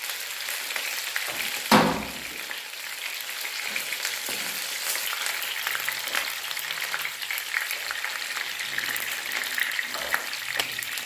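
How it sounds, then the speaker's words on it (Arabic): Chicken thighs searing in a pan, sizzling and crackling steadily at close range, with one brief louder clatter early on. "واثناء ما الوراك بتاخد صدمه من الجنب الثاني"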